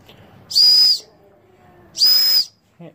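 Two sharp, high-pitched whistle blasts, each about half a second long, sounded close by with a short pause between them.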